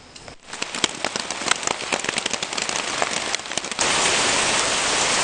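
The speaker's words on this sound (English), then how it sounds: "It's still raining." Rain falls at night on the Coosa backcountry trail in a steady dense patter, with sharper drops hitting a nearby surface. The patter gives way to a louder, smoother hiss of heavier rain. It is close, with no voices.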